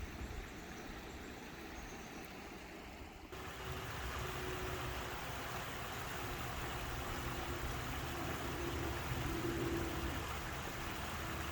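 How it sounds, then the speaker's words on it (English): A river running strong with spring snowmelt, a steady broadband rush that grows louder partway through, continuous and fairly distant, with no talking. "Just the sound, running water."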